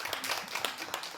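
Audience applause at a community media forum session, a soft, fairly distant patter of many hands clapping steadily.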